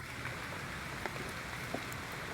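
Light drizzle patters softly and steadily, faint and far off, with a few slightly louder scattered drops and no talking.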